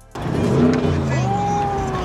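A car engine revs up close by after a brief quiet moment, its pitch climbing and holding in a strong, sustained whine over a low rumble.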